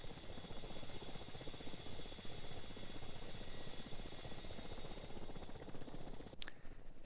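Ka-50 helicopter in the game DCS World holding a steady hover: a continuous, even rotor and engine drone with rhythmic rotor pulsing, heard alone, ending abruptly.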